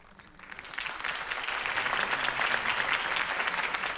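Crowd applause after a campaign speech for Harvey Dent in Batman: The Telltale Series, swelling from a quiet start into steady, dense clapping that holds loud to the end.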